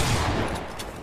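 A Bolt sniper rifle firing in Fortnite: a loud, booming report that opens abruptly and fades out over about a second, with no voices over it.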